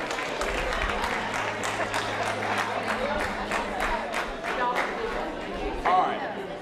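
A classroom group claps for itself, a dense patter of many hands mixed with chatter and scattered voices throughout, with a brief louder burst near the end.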